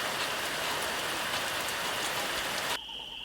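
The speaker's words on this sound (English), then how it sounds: "we're getting a little bit of a downpour here" Steady heavy rain pours down in a dense, even hiss, then cuts off abruptly near the end.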